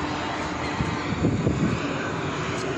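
A low-flying airplane passes overhead along a seaside promenade in Adler on the Black Sea, its broad engine roar steady and fairly loud throughout, with no talk.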